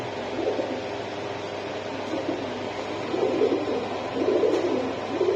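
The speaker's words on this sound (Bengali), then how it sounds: "এটা দুবাই কবুতর" Low, soft coos of Dubai pigeons repeat in a gentle rhythm over a steady background hum, close and moderately loud.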